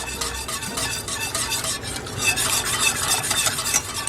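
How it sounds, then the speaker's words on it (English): Gravy being whisked in a pan for an old-fashioned 1955-style pot roast. The whisk scrapes and sizzles in a steady, continuous rhythm, up close, with no talking. "Whisk this until it thickens up"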